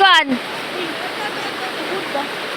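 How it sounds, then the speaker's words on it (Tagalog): Water from a falls or spring rushes in a steady, broad hiss close by, and a voice speaks briefly at the very start. "Ang tubig dyan, galing yan sa falls."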